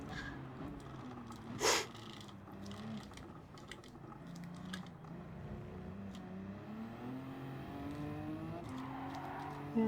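Race car in Gran Turismo 7 held at full throttle during a six-hour endurance race at Suzuka: a steady, sustained engine drone with rising and falling pitch, fairly faint, with no talking.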